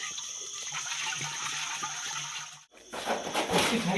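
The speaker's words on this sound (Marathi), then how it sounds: "इकडे रुपेश आहे ना मटक्याला आपला पूर्ण असा प्रॉपर एकदम पाण्याने स्वच्छ धुवून घेतो आहे." Water splashing and gushing while a clay pot is rinsed clean outdoors before cooking chicken popati, a steady pour with a brief pause, then louder sloshing toward the end.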